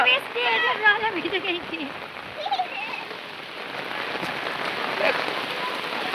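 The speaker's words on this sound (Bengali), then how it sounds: "প্রচন্ড বৃষ্টি পড়ছে, সব ভক্তরা ভিজে গেছেন।" Heavy rain pours down on a crowd of devotees at an outdoor Durga idol immersion ceremony, a steady dense hiss of drops throughout, with voices talking over it in the first seconds.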